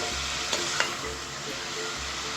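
Prawn karahi sizzles in a pan with garlic, ginger and curry leaves, a loud continuous frying hiss with a couple of light stirring knocks.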